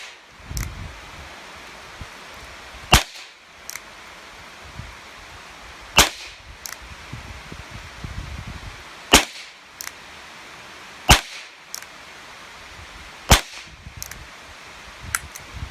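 A Charter Arms Pathfinder .22 revolver fires .22 CB short rounds, six or so sharp cracks spaced a few seconds apart, close and loud over outdoor rustling.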